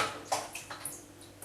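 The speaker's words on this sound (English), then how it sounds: "I'll pour it out" Moi moi batter made with habanero and sweet pepper pours from a blender jug into a bowl in a home kitchen, giving a few short, soft wet splashes and trickles, faint and close, with no talking.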